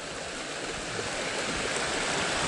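A stream of water in the woods rushes in a steady, dense wash, close and constant, with no other sounds.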